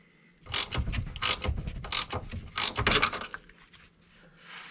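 A ratchet works on a large Allen key bolt on a 1982 Mercedes 300D Turbo Diesel, making close, loud bursts of clicking and grinding in uneven strokes before it trails off.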